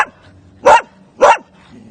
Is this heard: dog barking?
yes